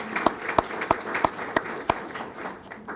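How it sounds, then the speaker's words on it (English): Applause at a support staff employee luncheon, a soft bed of clapping with several loud, distinct nearby claps at a steady beat, fading out toward the end. "let's give them a big round of applause"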